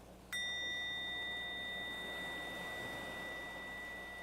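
A meditation bell is struck once, giving a clear, pure ring that sustains and slowly fades over several seconds against a quiet background hiss.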